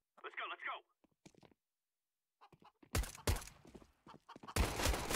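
Gunfire in the video game Counter-Strike, loud rapid bursts and single shots in the second half after a quieter stretch, with voices talking in between.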